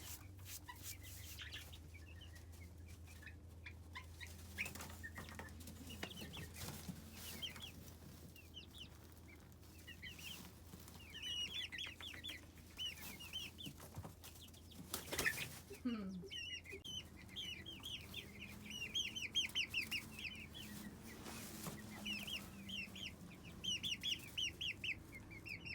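Many baby chicks cheep in a busy, overlapping chorus of high, rapid peeps, rising and falling in bursts over a steady low hum.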